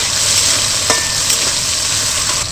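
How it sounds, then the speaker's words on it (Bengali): Grated ginger and other ingredients for a potato snack sizzle loudly and steadily in a hot pan, a dense continuous frying hiss with light stirring scrapes. "এবার সব কিছু একটু ভেজে নেব"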